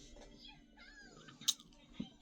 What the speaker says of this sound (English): My cat's being naughty.